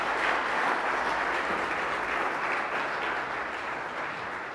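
Church congregation applauding loudly during a worship service, a steady dense wash of many hands clapping that holds at full strength throughout, with no voices over it.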